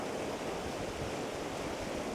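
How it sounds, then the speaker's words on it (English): Rushing river rapids churn steadily, a dense, loud roar of whitewater with no pauses, close by and uninterrupted, with no voices. "these rapids here are really flowing"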